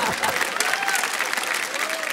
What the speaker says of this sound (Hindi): आप कविता पर ताली बजा रहे हो